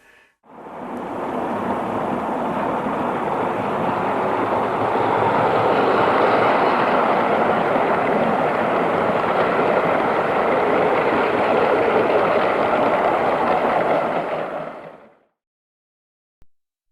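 A model train in L&ER style runs on a railway layout, a continuous rolling rumble that swells and holds steadily for about fifteen seconds before dropping away to silence.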